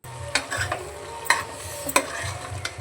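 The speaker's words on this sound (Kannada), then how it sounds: "ಇಲ್ಲಿ ಚಿಕನ್ ಒಗ್ಗರಣೆಗೆ ಹಾಕ್ಕೊಂಡಿದ್ದೀನಿ" Chicken sizzles in a spiced tempering for chicken curry, punctuated by a few sharp scrapes and clacks of a stirring spoon against the pan.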